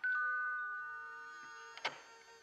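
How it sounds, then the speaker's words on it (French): A cartoon doorbell rings with a sustained bright chime that slowly fades, followed by a short second ring near the end, clear and alone. "Ce qu'elle peut m'énerver, cette sonnette de malheur."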